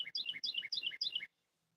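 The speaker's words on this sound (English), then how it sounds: "Well, yeah, that was nice and loud, bird." A bird chirps loudly and nearby in four quick repeated bursts of bright, high tweeting notes, then it falls silent.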